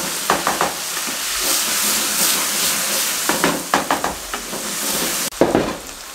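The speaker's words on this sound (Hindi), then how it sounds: "सोया सॉस डाल दें 1 टेबल स्पून और इसको 3 से 4 मिनट आलूओं के साथ मज़ीद बुनाई कर लें" Okra and potatoes stir-fried in a pan with a splash of soy sauce, giving steady sizzling broken by clusters of scraping stirs and clinks of a spatula, close and fairly loud.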